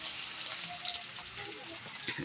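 Food frying in a pan, a steady close sizzle and crackle with faint voices murmuring in the background.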